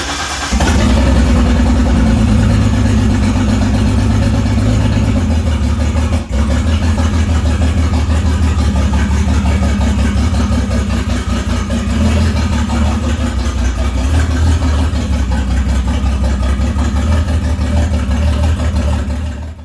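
A Datsun 280ZX engine idles steadily just after its first start following a plug-wire fix, with a loud, even low rumble that holds for about twenty seconds with a slight dip near the start.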